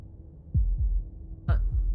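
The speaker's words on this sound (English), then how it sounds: "That was the sound of a heartbeat" Heartbeat in the video game Slay the Princess, two deep, low thuds in quick succession, then a pause and another lub-dub pair over a faint hum, close and resonant.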